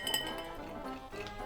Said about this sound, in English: You're gonna put 3 or 4 ice cubes in it.